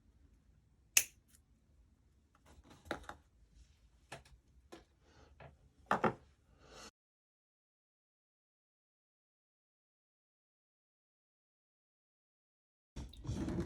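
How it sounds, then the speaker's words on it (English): Jewellery wire being snipped with cutters: a sharp, close click followed by several fainter ticks and light handling sounds, then silence, and then soft noise returning at the end. "We snip."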